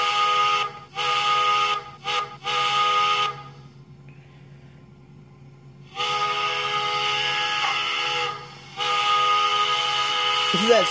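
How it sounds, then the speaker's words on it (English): A model MTH K4 Pacific steam locomotive's sound-system whistle sounds loud and close in several blasts, short toots first, then two long sustained blows separated by brief pauses. "Here's your K4 whistle."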